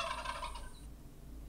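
A turkey gobbles in a rapid, rattling burst that fades after about half a second, leaving quiet low background, close and loud at the start.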